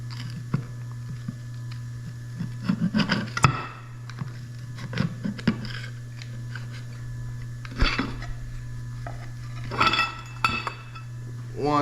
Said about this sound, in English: Then we're going to go ahead and take that snap ring off the end cover.